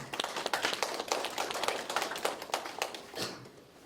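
A lecture audience at a youth culture talk claps to welcome a speaker to the stage: a modest crowd's distinct, individually audible hand claps in an uneven patter that thins out toward the end.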